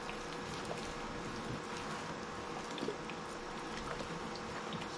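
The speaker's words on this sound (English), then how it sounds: "now what we're going to do is rinse this off good so we get all that grit off of there" Water is sprayed to rinse grit off a cloudy Toyota Prius headlight during restoration, making a steady, even hiss of spray and splashing that continues throughout.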